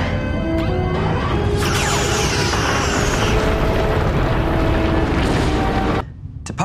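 Starship weapons fire aboard the Enterprise during a tactical drill: a dense, loud sustained roar with crashing bursts and rising whines, filling the scene, then cutting off abruptly near the end.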